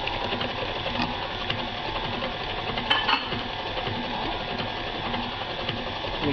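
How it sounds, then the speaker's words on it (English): An electric stand mixer on medium speed beats marble cake batter with a steady, even whirring and rattling hum that carries on without a break, with no talking over it. "You don't want your mixer up on high, doing this on medium."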